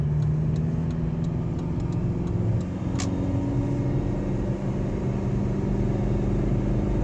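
Diesel engine of a Jeep Liberty pulling away uphill from a stop while towing a trailer, a steady low rumble with sustained mid-frequency drone that holds throughout, heard from inside the vehicle with no talking.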